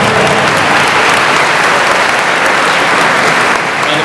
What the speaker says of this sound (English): Yeah, round of applause for California.